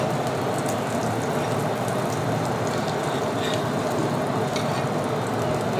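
Shami kebabs fry in a pan of oil with a steady, dense sizzle and crackle that stays loud and even throughout, with no talking.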